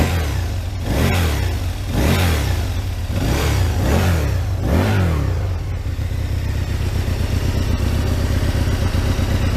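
An Aprilia RSV1000 motorcycle engine revs hard, close by, blipping up and down about five times in a steady rhythm before settling into a loud, rough, rattling idle.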